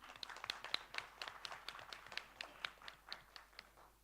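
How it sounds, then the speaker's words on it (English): Scattered, faint applause for a member of parliament at a committee meeting, a small group of hands clapping unevenly and quietly throughout. "with a hand of applause, introduce him"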